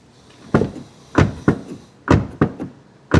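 The doors of a 2014 VW CC 1.4 TSI Sportline shut in a series of about six solid, close thuds, each a short heavy slam followed by a quick decay, spaced irregularly with quiet between.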